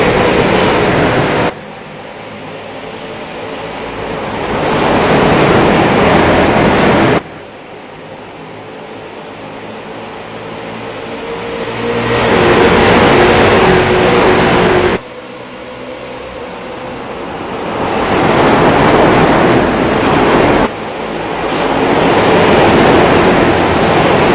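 Street stock race cars roar around Iowa Speedway after a green-flag restart, a loud, continuous engine rumble that swells and recedes in long waves as the pack passes.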